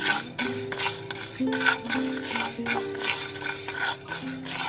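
Urad dal dry-roasting in a pan for chutney powder is stirred with a utensil, giving steady scraping and light metallic clinks through the whole stretch, with a tonal hum running underneath.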